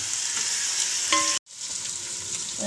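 Garlic, ginger paste, curry leaves and green chillies sizzle and crackle steadily in hot oil for a chicken curry, with a brief stir clink midway and a momentary cutout before the frying hiss resumes.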